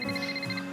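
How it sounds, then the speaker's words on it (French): A mobile phone ringing indoors, its melodic ringtone repeating as a bright, pulsing pattern of tones, fairly loud and close with no talking over it. "Il y a un portable."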